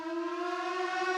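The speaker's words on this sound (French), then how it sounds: "la sirène retentit dans toute la vallée" A civil defense flood warning siren sounds across a river valley, holding one loud, steady wailing tone throughout.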